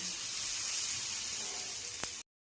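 Thin besan chilla batter sizzles in a hot pan as a loud, steady, close hiss, with one brief click just before the sound cuts off abruptly.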